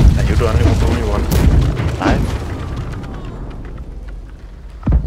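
Ship cannons firing in the naval video game Blackwake, heavy booms punching through ongoing chatter among players, with a strong blast near the start and another near the end.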